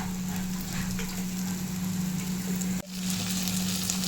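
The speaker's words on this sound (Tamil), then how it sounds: "இங்கே பாருங்கள், மூளை நல்லா கொஞ்சம் ஃப்ரை ஆகிருக்கு" Goat brain slices frying in oil in a pan, giving a steady, close, dense sizzle that runs throughout, broken only by a brief dip near the end.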